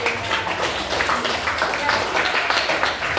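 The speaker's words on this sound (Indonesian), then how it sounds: "tepuk tangan dulu" A school class clapping hands after a group presentation, a fairly faint, steady patter of many hands in a classroom, with voices mixed in beneath it.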